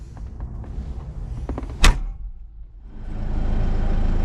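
A Deutz-Fahr 6135C tractor cab door shuts with a single solid thunk amid low engine rumble, followed by a steady idling hum.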